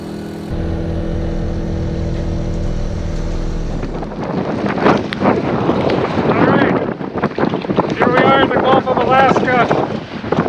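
A sailboat in Alaska beats into the wind with its engine dead: a steady mechanical drone gives way to gusting wind and rushing water noise, loud and close, with voices talking over it toward the end.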